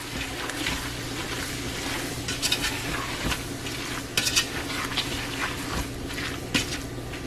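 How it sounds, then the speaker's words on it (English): Ground beef and seasonings being stirred for chili in a pot, a steady close scraping and stirring over a constant sizzle of frying meat, with occasional clinks of utensil against the pot and no talking. "And we're gonna stir. Get all them seasonings well acquainted."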